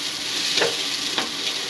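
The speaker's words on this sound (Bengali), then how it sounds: "আমি এখন রান্না করছি নোটে শাক ভাজা, বড় বড় চিংড়ি মাছ দিয়ে পেঁয়াজ দিয়ে।" Noté greens (amaranth) frying in a pan with large prawns and onion, giving a steady sizzle broken by a few sharp crackles as the food is stirred.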